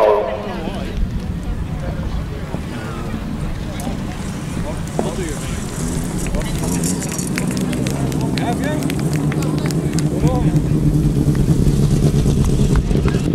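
Grasstrack sidecar motorcycles racing at the 2009 British Masters, a steady roar of engines at a distance with rising revs, under continuous commentary and crowd ambience.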